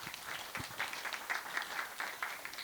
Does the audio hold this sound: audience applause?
yes